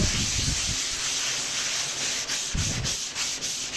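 Body filler on a car is sanded by hand, a close, continuous abrasive rubbing with rhythmic strokes and brief pauses, alone without speech.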